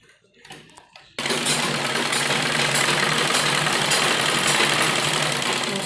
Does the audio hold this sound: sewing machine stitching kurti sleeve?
yes